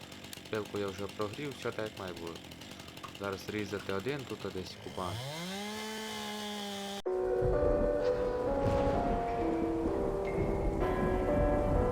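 A chainsaw in the video game Farming Simulator 19 whines up after someone speaks, then settles into a loud, continuous buzzing roar for the last few seconds.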